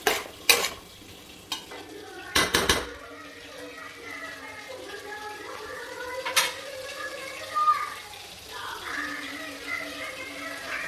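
Chicken with masala is stirred in a pan for a Kerala-style chicken roast, with sharp spoon knocks against the pan at the start and a soft sizzle and scraping continuing underneath.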